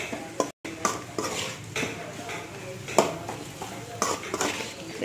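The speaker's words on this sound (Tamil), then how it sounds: "இதையும் போட்டு நல்லா வதக்கணும்" Tomatoes, green chilies and curry leaves being sautéed in a pan, dominated by clattering stirs and spoon-on-pot knocks in irregular bursts over a soft background sizzle, with talking present.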